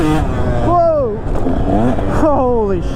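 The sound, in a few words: KTM 125sx dirt bike revving as the clutch is popped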